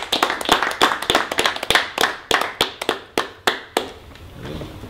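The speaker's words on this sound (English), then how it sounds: "A round of applause." A small group claps for the winner of a photography competition grand finale: about fifteen sharp, separate claps at an uneven rhythm, close and fairly loud, thinning out and stopping near the end.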